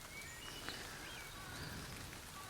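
Rain falls steadily outdoors, a soft, even patter and hiss that stays faint and constant throughout, with no voices.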